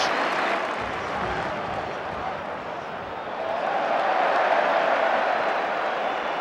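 Rangers fans in a football stadium crowd cheer and applaud in a steady, loud wash of noise that swells slightly in the second half.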